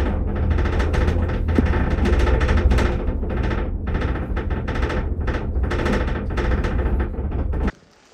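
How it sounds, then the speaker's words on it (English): During the climb to the mountaintop, the Sky Trail gondola gives off a loud, continuous rapid rattling and clattering, like fast mechanical knocking, for about seven seconds before cutting off suddenly. "Why is the gondola making that noise?"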